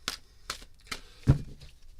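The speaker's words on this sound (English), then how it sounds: "Here are your 8 official shuffles." Tarot cards are shuffled in three quick riffling bursts about half a second apart, close and crisp, followed by a soft thump as the deck is tapped down.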